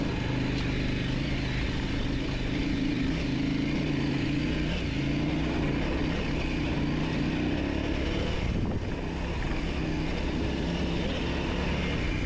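Motorcycle ridden on a trail during a ten-day, 4600 km trans-Spain TET trip, its engine droning steadily and loudly throughout with constant wind noise and no pauses.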